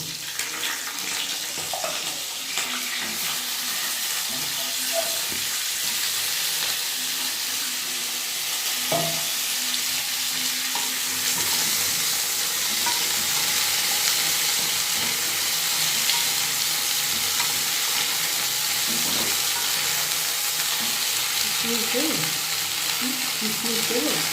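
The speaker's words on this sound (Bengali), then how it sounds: "এইবার এই আনাজগুলো দিয়ে দেবো।" Vegetables for daliya fry in hot ghee in a pan, giving a loud, steady sizzle that lasts the whole time, with faint stirring scrapes and light kitchen clatter behind it.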